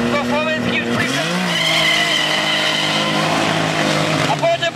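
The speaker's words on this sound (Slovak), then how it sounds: "Takže tento Nissan má 700 koní, priatelia, preplňovaný nitrom" A 700 hp nitrous-boosted Nissan race car launches at a Slovak drag racing event, its engine roaring loud and close with a rising, sweeping pitch and tire squeal.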